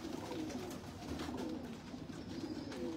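Pigeons on a rooftop coo in a steady, low murmur that stays fairly faint and continuous for a few seconds, with soft background noise and no clear talk.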